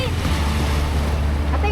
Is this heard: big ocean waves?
yes